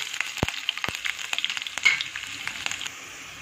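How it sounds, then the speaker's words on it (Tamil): Garlic cloves fry gently in oil over low heat, giving a soft steady sizzle broken by a few sharp pops and crackles, fairly close with no talk. "பூண்டு வந்து நல்லா கோல்டன் ப்ரௌன் ஆகிற வரைக்கும் சிம்மில் வச்சு ஃப்ரை பண்ண போகிறோம்"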